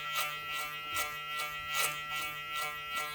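Electric clippers trimming and blending a beard, a steady close mechanical buzz with rhythmic swells roughly every half second as the blade passes through the hair, with no talk.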